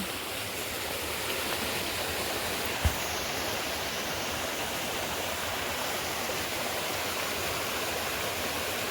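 A stream flows steadily after floodwaters have receded, a broad, even rush of running water from start to end with one brief knock partway through.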